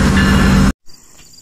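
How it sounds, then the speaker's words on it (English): A train pulling away from a station in Kingston, Ontario makes a loud, dense rumble that suddenly cuts off, followed by faint outdoor ambience with a high insect-like hum. "And there goes the train."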